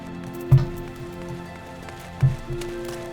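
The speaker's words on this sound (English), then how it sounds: "We return on a rainy day." Rain falling in the video game Final Fantasy XIV, a steady patter of drops on surfaces under a low droning ambient tone, with a couple of louder thuds breaking through.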